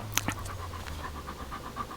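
A dog pants in the heat in quick, steady, faint breaths close by, its rhythm unbroken after a brief sound at the start.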